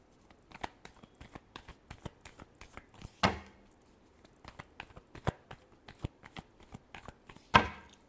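Tarot cards are shuffled close by in quiet surroundings, giving a run of soft, irregular papery taps and riffles, with two sharper, louder snaps where the deck is squared.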